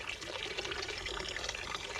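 Water falling from a garden fountain in the Boboli Gardens pours and splashes in a steady, even stream, close and continuous without a break.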